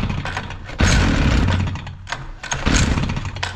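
A Stihl FS 460 C brushcutter with an electronic carburetor that won't run, its engine pulled over by the starter cord: loud, close, rough mechanical whirring in repeated bursts with brief dips between pulls.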